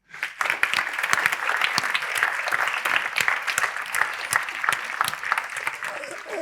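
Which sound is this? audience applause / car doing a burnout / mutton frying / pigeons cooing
audience applause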